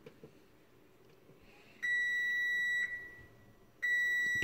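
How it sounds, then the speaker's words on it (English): A kitchen appliance gives out sustained electronic beeps, two long even tones separated by a brief gap, loud and close in a quiet room with faint handling noises just before. "Okay, it's enough beeping."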